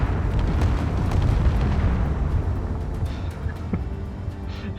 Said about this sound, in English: that was a lot of rockets that would have gone straight into my control tower